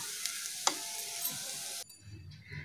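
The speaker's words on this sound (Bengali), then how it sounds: "এইভাবেই আমরা পুরোটাই মিক্সড করে নেব" Fried rice and vegetables are stirred in a pan with a steady broadband sizzle and one sharp utensil scrape, then the frying noise cuts off abruptly, leaving a low quiet background.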